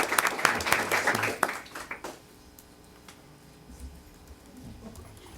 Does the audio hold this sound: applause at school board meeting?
yes